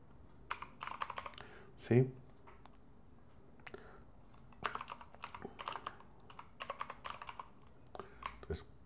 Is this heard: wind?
no